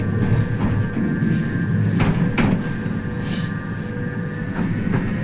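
A Tatra K1M6 tram on route 35 rolls along with a steady low rumble and hum, interior rail noise continuing throughout with a few faint clicks and no talk.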